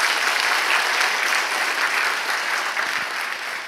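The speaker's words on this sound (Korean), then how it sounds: "여러분 박수 한번 해줘요" Steady applause from a church gathering at a Gunsan early-morning prayer service, a dense, even wash of many hands clapping together, fairly loud and sustained throughout with no talking over it.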